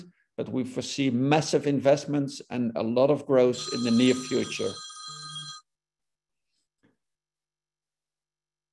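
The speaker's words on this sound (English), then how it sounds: "sorry for my phone ringing" A mobile phone rings during a presentation on geothermal district heating, a bright electronic ringtone that cuts in over a man's speech for about two seconds and continues briefly after he stops talking.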